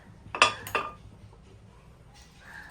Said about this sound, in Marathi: आपण आता आप्पे पात्र घेणार आहे. आपण गॅसवरती ठेवूयात.